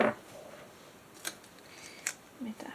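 Scissors snip through a piece of double-sided tape in two short, crisp cuts close by, with a little handling noise in between and a soft rustle at the end.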